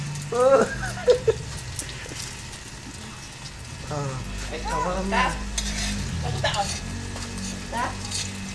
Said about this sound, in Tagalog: Nagluluto po siya ng itlog